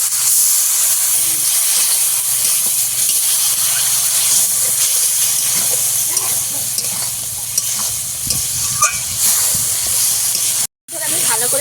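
Spices frying in a pan for a fish curry as water goes in, a steady loud hiss and sizzle of steam with faint stirring scrapes throughout, cut by a brief silent gap near the end.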